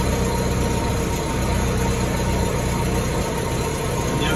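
A petrol engine in an older Bobcat skid-steer loader runs steadily at close range, a constant rumbling drone with a light hum layered over it and no pauses or changes in pace.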